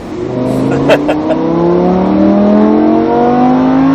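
A Lamborghini Huracan accelerates on a circuit at Mérignac, its loud engine note climbing steadily in pitch throughout, with people talking over it near the start.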